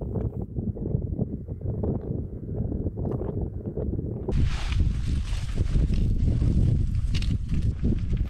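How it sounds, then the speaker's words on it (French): Strong wind roars across a misty, cloud-covered mountain ridge in the Massif du Cantal, buffeting the microphone steadily and growing harsher and louder partway through, with no talking. "Sur la crête, enveloppée par les nuages et l'humidité, un vent fort va vite nous refroidir."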